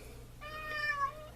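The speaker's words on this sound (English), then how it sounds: "And that's the cat putting his opinion in." A cat meows once, a drawn-out tonal call rising and falling over about a second, fairly close and clear above a low background hum, with no talking.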